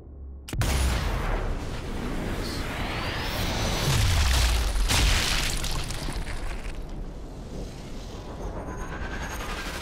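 Explosives going off in Sniper Elite 4: a sharp loud blast followed by a long rumbling roar with a descending tail, then a second thud and fading debris noise.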